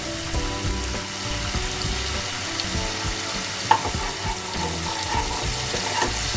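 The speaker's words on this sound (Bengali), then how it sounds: "আর একটু ভালো করে কষাতে হবে।" Garlic and fish frying in oil for a Bengali bata fish curry, a steady sizzle running through the whole span with a few stirring scrapes and one sharp clink partway. It is close and fairly loud, with no talking.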